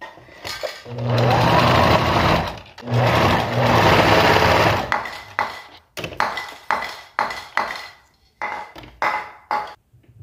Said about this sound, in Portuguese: Com a linha em seu devido lugar, vamos voltar e terminar a costura.